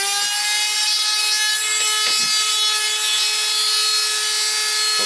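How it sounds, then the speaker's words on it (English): A Dremel rotary tool fitted with a small cylinder bit carves into wood, giving a loud, steady high-pitched whine with faint scraping as the bit cuts, close and continuous with no talking. "with a cylinder bit in my Dremel"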